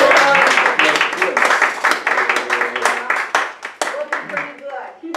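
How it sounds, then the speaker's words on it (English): Audience applause during a church service, sustained clapping that thins out toward the end, with voices talking and calling out over it. "I think we got to give Jason and Chris and Herb applause for digging in the weeds."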